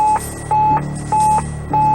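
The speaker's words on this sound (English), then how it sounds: "The master alarm began to blare." The master alarm aboard the Mir space station blares in a steady repeating pattern, four loud electronic tones pulsing evenly with short gaps, harsh and close with no voices.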